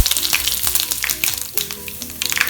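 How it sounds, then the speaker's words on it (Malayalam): Curry leaves dropped into hot oil with fenugreek and dried red chillies for a Kerala pineapple pulissery tempering, a loud close crackling sizzle with sharp pops and spits throughout, no voices. "പിന്നെ കറിവേപ്പില ചേർക്കാം."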